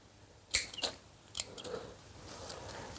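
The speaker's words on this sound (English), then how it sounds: "I'm going to just cut leaves off" Leaves being cut from a kaffir lime tree give a few sharp snips and clicks, with quiet rustling between them, close by and without talk.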